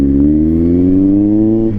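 A Kawasaki Z900 motorcycle with an aftermarket exhaust revs steadily and loudly up close, its deep throbbing note rising slightly in pitch across the burst before cutting off near the end.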